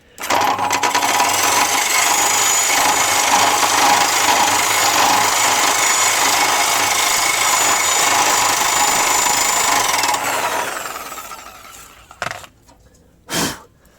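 A reciprocating saw fitted with an AliExpress brush attachment runs at full power for about ten seconds, a loud, harsh, buzzing scrub, then winds down and stops, leaving a couple of brief knocks.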